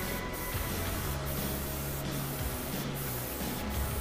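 Airbrush spraying thin, even coats of paint onto a small model cabover truck frame, a steady close hiss running the whole time with faint low hum and soft periodic puffs, no talking.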